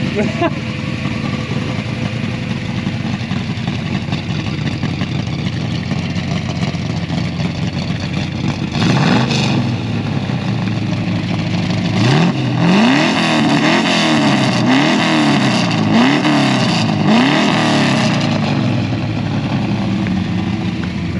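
A Ford XY GT Phase 3 HO engine rumbles loudly and steadily up close, then revs hard several times in quick succession, its pitch rising and falling repeatedly.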